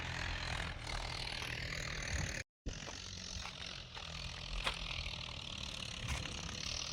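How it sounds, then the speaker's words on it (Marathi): A tractor ploughs a farm field, its engine a steady, faint mechanical drone with a brief dropout, and no talk over it. "इकडं ट्रॅक्टर नांगरणीचं काम पण चाललेलं आहे"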